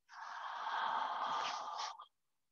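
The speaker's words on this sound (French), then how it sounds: "Toute l'ouverture, j'inspire et toute la fermeture, j'expire." A single deep, close breath during a gentle exercise routine, a steady airy rush lasting about two seconds that then stops abruptly, soft and alone.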